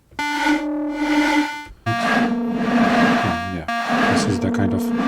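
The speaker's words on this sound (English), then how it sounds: "The chorus here is pretty interesting as it can nicely distort the sound." A synth in Kult with a chorus effect, loud sustained buzzy tones made rough and distorted by the chorus, playing in three segments separated by brief cuts.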